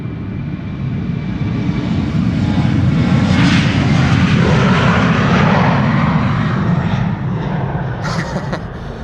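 A KLM airliner takes off from Amsterdam Schiphol Airport, bound for Düsseldorf, its engines a loud, steady low roar close by that swells toward the middle and holds for the whole stretch, with no talk.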